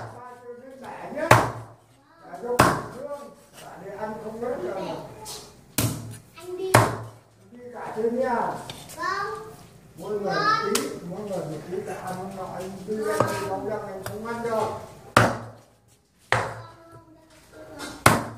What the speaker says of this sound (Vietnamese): Mình chặt cổ cánh để làm nước nẩu các bạn nhé.